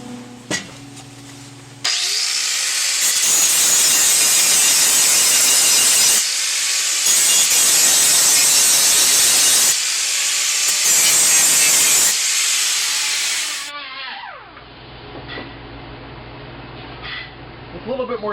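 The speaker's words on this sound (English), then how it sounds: "take the angle grinder, grind off the excess metal, take a sander and smooth it out" Angle grinder and sander working a welded metal panel replacement, grinding off excess weld metal: loud, sustained abrasive roar in long bursts with brief pauses, fading to quieter scraping near the end.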